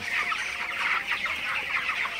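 Broiler chickens in a coop at night on day 21, a dense crowd of soft overlapping clucks and chatter, steady and close.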